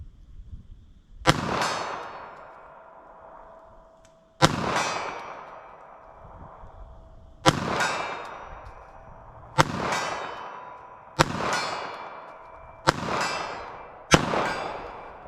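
Seven loud, sharp gunshots from a compact .380 ACP pistol fired at a target 50 yards away, each a crisp crack with a short ringing decay, spaced irregularly about one to three seconds apart, with no talking.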